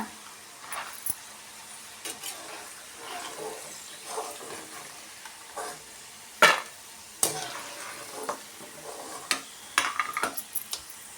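Ingredients for Melukote Iyengar-style puliyogare sizzle and get stirred in a pan, with scraping strokes and clinks over a steady low frying hiss, no talking.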